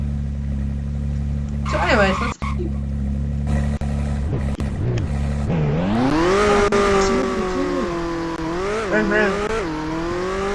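A 2022 McLaren race car in the video game Vehicle Legends revs and accelerates, its engine tone rising and wavering with a brief tire squeal, loud and close beneath ongoing talk.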